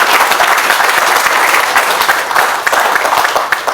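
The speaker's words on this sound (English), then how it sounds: "Let's have a round of applause for that." A crowd gives a loud, dense round of applause at the declaration of Nasinu Town in Fiji as tobacco-free, many hands clapping close and continuously before tapering slightly toward the end.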